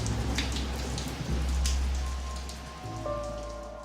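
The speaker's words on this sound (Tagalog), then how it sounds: "Sana yuminto ang ulan mamayang tanghali." Steady rain patters on a surface, a dense continuous hiss of drops with a few louder splashes, close and fairly loud throughout with no voices.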